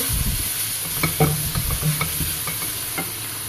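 A spiced bread-patty filling stirred in a frying pan: close, loud spoon scrapes and knocks in uneven rhythm over a constant sizzle, with no one talking.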